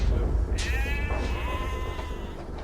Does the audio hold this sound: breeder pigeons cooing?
no